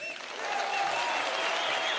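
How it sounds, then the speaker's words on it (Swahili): An audience at a political party event at Bomas breaks into applause, a dense wash of clapping that swells after a brief quieter start and holds steady. "Makofi, makofi kwa mheshimiwa."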